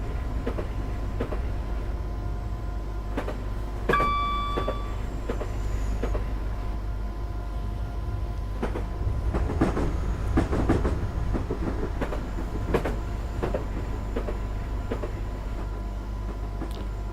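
A train runs on rails in Train Simulator, with a continuous low rumble, rhythmic clicks over rail joints and a few brief tonal squeals, steady and close throughout with no talk.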